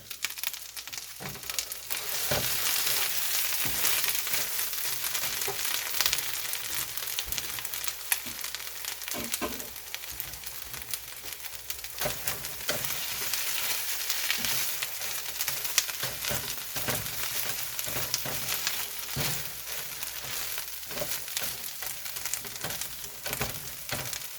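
Potatoes frying over lowered heat in a home kitchen pan, giving a continuous dense crackling sizzle that holds steady and fairly loud throughout, with occasional small pops and scrapes.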